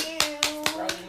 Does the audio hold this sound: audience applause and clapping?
yes